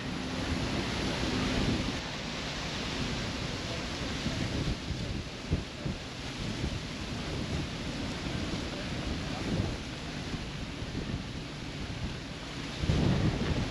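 An approaching storm in Key West, Florida, with heavy rain roaring steadily and low thunder rumbling through, plus gusts of wind buffeting the microphone for the whole stretch.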